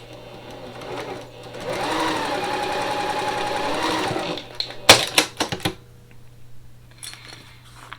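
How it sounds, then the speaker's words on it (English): A sewing machine runs steadily for a few seconds while stitching a quilt block seam on a spooky-themed sampler quilt. It then stops, followed by a few sharp clicks and handling noises. "and then I'm going to sew again from the middle down to the bottom corner."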